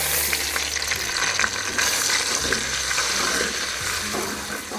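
Semolina roasts in hot ghee over a low flame, giving a continuous bright sizzle with soft stirring scrapes underneath, close and fairly loud, no voices.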